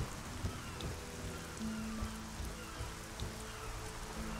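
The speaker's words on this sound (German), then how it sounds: "Der Regen guckt auch ganz cool aus." Steady rain falls in the video game Gothic 4: ArcaniA, a dense continuous patter at even loudness with a few faint distant rumbles beneath and no talking.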